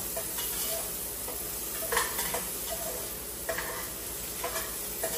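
Food frying in a pan for an Ilocano sinanglaw dish is stirred, with scraping strokes and utensil clinks over a steady sizzle, close and moderately loud.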